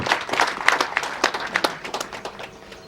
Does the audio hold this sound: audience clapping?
yes